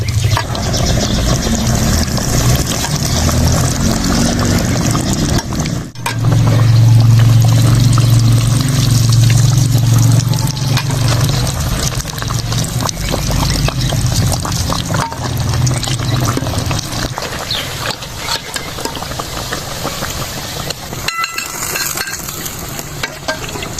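Potato and egg kababs frying in hot oil give a loud, steady, dense sizzle that runs unbroken throughout, close up, with a brief dip partway through.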